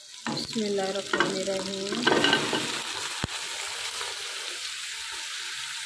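Beef hitting a hot pan with garlic and ginger for a karahi, bursting into a loud sizzle and stirring clatter right after a short spoken phrase, then settling into a steady frying hiss.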